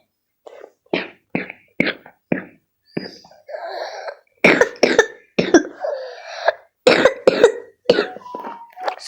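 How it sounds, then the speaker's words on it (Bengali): A person coughs repeatedly in a burst of sharp, close, loud hacks with throat clearing and strained vocal sounds between them, and no speech. "সরি সরি, আমার একটা কাশি এসেছিল"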